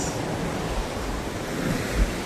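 Ocean surf on a Goa beach gives a continuous broad wash of water, with low rumbling wind buffeting the microphone and a small swell near the end, no voices.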